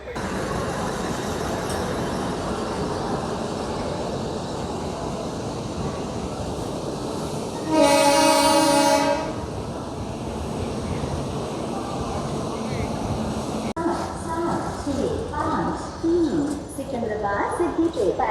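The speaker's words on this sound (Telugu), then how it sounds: "మన ట్రైన్ ప్లాట్ఫామ్ నెంబర్ 3కి వస్తుంది." A MEMU passenger train arrives at a platform at Secunderabad station, bound for Siddipet. A steady rumble of the approaching train fills the scene and a loud, sustained horn blast cuts through midway. Station noise follows, with a voice over it.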